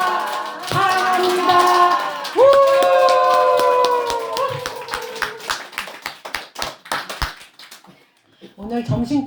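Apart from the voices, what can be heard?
temple congregation clapping hands and cheering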